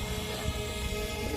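Drone for a photo shoot droning steadily and loudly nearby, a continuous whirring hum with no pauses.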